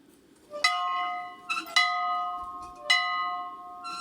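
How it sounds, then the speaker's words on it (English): An old 1886 farmhouse bell rung outdoors, three or four bright metallic strikes each leaving a long ringing tone, with a softer tap between them, heard fairly close in a quiet setting. "Right here is a bell. It's a really old bell. 1886 is when it was made."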